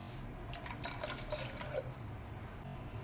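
Water is poured from a cup into a mixer grinder jar holding spice paste for tomato kurma, a soft, faint, steady splash heard alone without talk.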